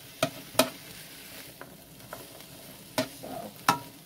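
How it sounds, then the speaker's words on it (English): Sliced green and red peppers with onion sizzling softly in a pan, with a few sharp clanks of a utensil stirring against it at irregular moments, close and without talk. "we're gonna allow this to saute a little bit."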